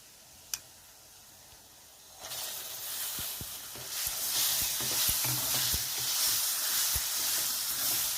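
Tomatoes sizzle and hiss loudly after landing in hot roasted masala for egg curry, with quiet ticks of a spoon stirring the pan and no talking.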